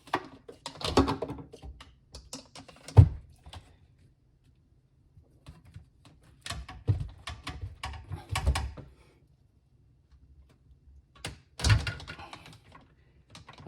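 Big wrench loosening a plastic RO filter housing, clustered bursts of clicks, creaks and knocks with a few sharp thunks, separated by quiet pauses.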